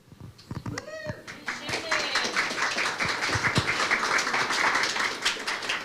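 An audience at an award event cheers and claps, a broad crowd roar swelling after a brief opening and holding loud to the end, with voices mixed in.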